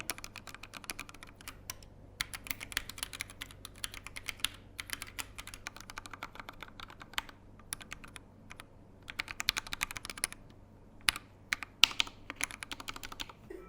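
Fast, steady clacking of a Monstargears XO v3 mechanical keyboard after its switches have been lubed, close and fairly quiet, keys struck in continuous bursts with no voice over them.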